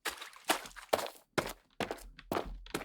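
Footsteps on stone in a first-person Unity game built with FMOD, roughly seven evenly paced steps with crisp, hard impacts, close and fairly loud, with no talking over them.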